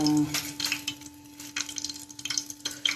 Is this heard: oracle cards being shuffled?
no